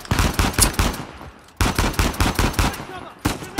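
Rapid bursts of automatic gunfire from the video game Uncharted 4, loud and close, firing in several dense rattling volleys separated by brief pauses.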